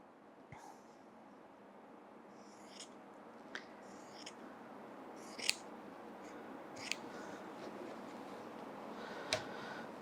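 Sharp scissors snip through quilt fabric in a quiet sewing room, a handful of crisp, separate cuts spaced a second or two apart over a low background hiss.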